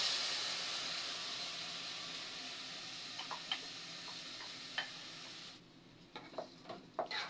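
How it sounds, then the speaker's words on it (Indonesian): Rice and vermicelli stirred in a pan for nasi bihun, a soft hiss under scattered light scrapes and taps of the utensil, faint and close, with the sizzle dropping away near the end. "sekarang kita aduk supaya tercampur merata"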